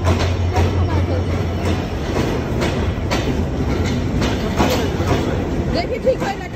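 A train passing close by on rails, with a steady rhythmic clickety-clack of wheels and a continuous rumble; people talk over it.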